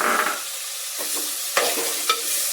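Chopped drumsticks tossed into a hot pan for a tomato curry crackle briefly, followed by a few sharp scraping stirs and clicks against the pan, close and moderately loud, with no voices.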